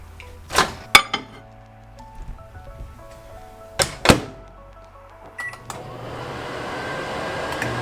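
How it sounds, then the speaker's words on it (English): A microwave oven heating a mug of brownie batter: a few sharp beeps and clicks come first, then a steady, even running hum fills the last couple of seconds, with no talking. "Pop this in the microwave until it's done to your liking."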